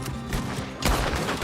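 Gunfire in the video game Red Dead Redemption 2, a couple of quick muffled shots followed by a louder blast, dense and close in a brief exchange with no voices.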